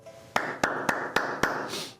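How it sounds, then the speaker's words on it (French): Five sharp, evenly spaced hand claps ring out in a studio during a Chinese horoscope segment, each crisp strike standing out over a steady background hum. "On l'applaudit."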